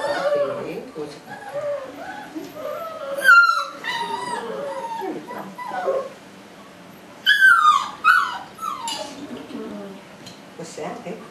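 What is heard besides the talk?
puppy whimpering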